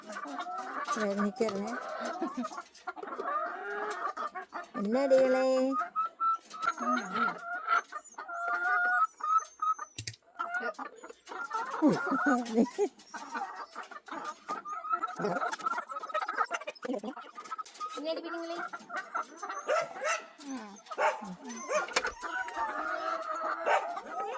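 Hens cluck and murmur close by, with a rooster crowing at times, while a person talks over the birds throughout.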